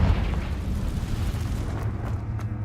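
A Confringo fire spell explosion in Hogwarts Legacy, a continuous heavy rumbling roar with a dense low-end boom that holds steady throughout without a clear start or end.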